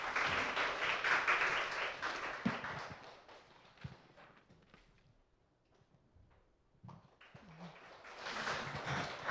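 Applause at a school admissions information session welcomes the next presenter, loud at first, thinning into scattered claps and thumps, then swelling again at the end.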